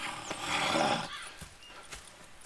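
A horse whinnies loudly up close in Red Dead Redemption 2, a long bright neigh over the first second, followed by a few scattered hoof clops and soft thumps.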